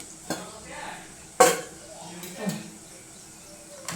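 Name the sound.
cumin and mustard seeds added to hot oil in a pan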